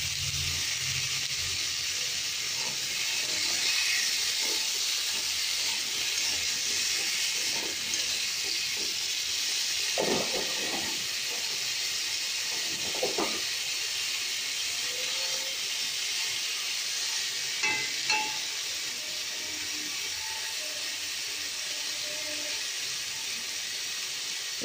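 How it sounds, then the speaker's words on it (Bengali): Potatoes fry in hot oil with nigella seeds in the pan, after eggplant was fried in it, producing a constant loud sizzling hiss with occasional faint clinks from utensils. "এটা সময় নিয়ে বেশ মজিয়ে ভেজে নিতে হবে।"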